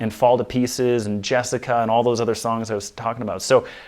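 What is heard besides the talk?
None of the usual background noises is heard.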